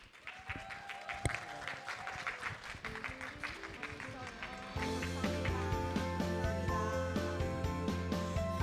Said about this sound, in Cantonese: 再次俾多啲掌聲